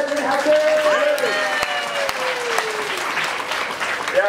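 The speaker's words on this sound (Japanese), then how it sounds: "もう一度あの夢壁たちに拍手。" Crowd applause rises beneath a pirate-themed stage show, clapping running steadily under a lively voice and music tones, with a couple of sharp clicks standing out.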